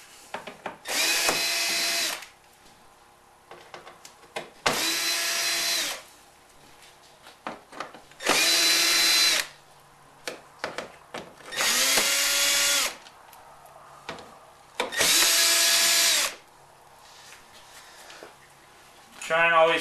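A power drill backing screws out of a Jeep Patriot front bumper, five separate loud whirring bursts of about a second each with short gaps of handling and clicks between, close to the microphone.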